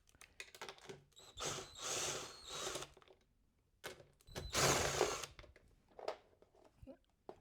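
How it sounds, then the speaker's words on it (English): A power drill whirs in two long bursts, separated by a pause, followed by short spins, removing bolts while fitting a fender eliminator on a 2025 Honda Grom; close and fairly quiet, no talking. "I'm going to use a drill on this one"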